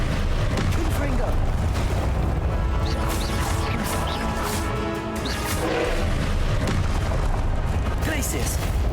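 Confringo spell blasts in Hogwarts Legacy: a continuous, loud barrage of crashing, booming impacts and smashes, dense and unbroken, with voices mixed in among the chaos.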